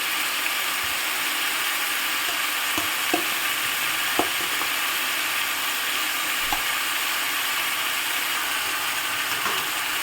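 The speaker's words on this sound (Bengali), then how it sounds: "চিকেনের সঙ্গে ভালো করে মিশিয়ে নিচ্ছি নেড়ে।" Chicken with potato and papaya fries in a pan while being stirred, making a continuous bright sizzle broken by occasional spatula taps and scrapes, with no voices.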